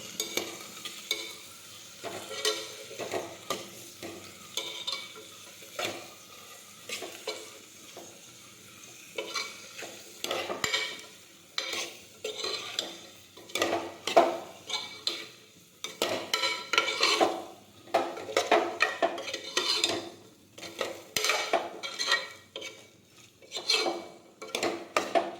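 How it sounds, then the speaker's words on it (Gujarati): Spices being mixed into a cluster bean curry in a pot, heard as a long run of close, repeated spoon scrapes and stirring strokes against the metal with a light sizzle beneath, in uneven bursts and no voices. "હવે બધા મસાલા છે તે મિક્સ કરી દઈશું."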